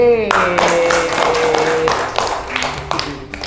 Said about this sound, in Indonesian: Beri tepuk tangan untuk kelompok C.